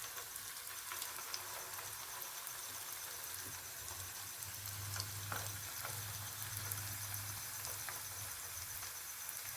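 Food fries gently in a pan on very low heat, a faint, even crackle and sizzle with occasional small pops under a low hum, with no voices.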